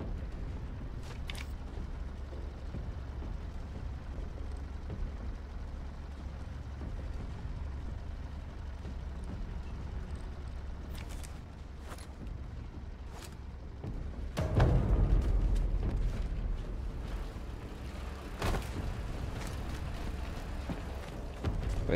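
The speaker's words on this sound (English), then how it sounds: "They heard the explosion" A loud explosion in the video game Sniper Elite 5, set during D-Day, bursts out around the middle as a deep boom over a steady rumbling battlefield ambience, with sharper gunfire-like cracks scattered before and after.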